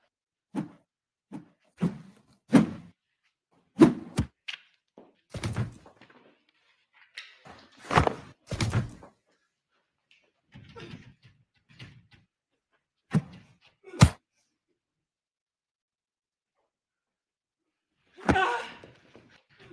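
A locked door being tried, giving a series of irregular, fairly close thuds and knocks spread across nearly twenty seconds, with quiet gaps between and one sharper bang near the end.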